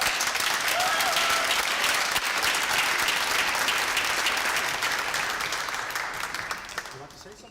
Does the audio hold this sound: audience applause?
yes